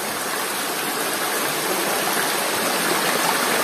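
Natural flowing river, Wai Bernung, rushing water with a dense, steady broadband hiss and gurgle, loud and close, continuous without voices.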